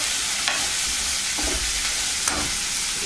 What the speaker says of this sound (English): I'm going to chuck in my pre-cubed meat. This is the leftover roast dinner beef. Give it a stir.